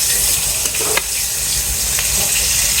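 Pointed gourd slices fry in a pan with a loud, continuous sizzle and crackle, with occasional soft spatters and stirring scrapes and no talking.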